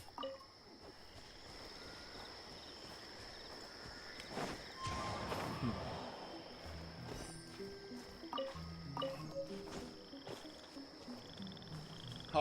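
Frogs croak in a Genshin Impact game world, a steady chorus of low pulsing calls under ambient wind and a high constant tone, with footstep-like patters mixed in.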